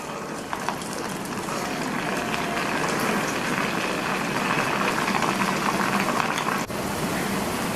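Small bondas made from idli batter frying in hot oil on a low flame, a dense continuous sizzle and bubbling with a brief clink near the end, no talking.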